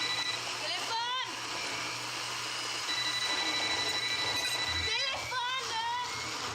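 A telephone rings indoors in two short warbling bursts, one near the start and another a few seconds later, over a steady background with people talking faintly.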